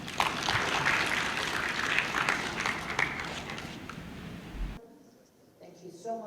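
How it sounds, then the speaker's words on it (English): An audience at a Kenyan delegation meeting in Lusaka applauds in a sustained patter of clapping for several seconds before it fades into a quiet room with faint voices. "let's give him a round of applause"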